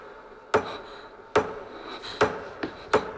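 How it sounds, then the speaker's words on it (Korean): Five sharp, spaced hammer strikes from an unseen hammering coming toward a school science building at night, each crack standing out over a quiet hiss. "망치질 소리가 멈추지 않고 계속 들리는 거예요"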